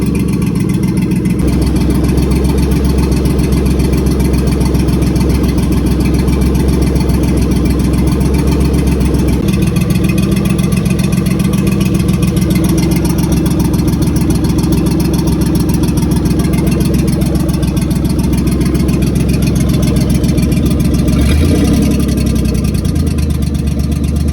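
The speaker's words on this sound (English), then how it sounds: "we're going to try and see how long I can let it idle for" A Pontiac Fiero engine idles steadily and loudly for the whole stretch, a continuous low rumble with slight surges and one brief rise near the end.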